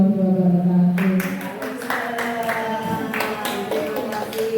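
Audience applause for a primary school teacher's presentation at a school event, a steady wash of clapping lasting the whole stretch over a tonal background hum, fairly close and moderately loud.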